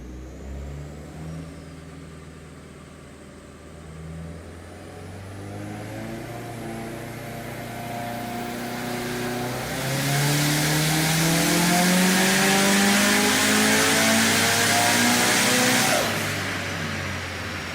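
A turbocharged IAG 750 engine on a dyno, climbing steadily through the revs in a long pull that grows louder and brighter with a hiss near the top before cutting off, close and alone.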